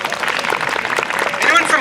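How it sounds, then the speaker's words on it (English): Audience applause at a summer concert series at Scituate Library, a steady dense wash of clapping from a crowd with some voices and cheering mixed in, swelling slightly near the end. "If you're from Scituate, can you give us a round of applause?"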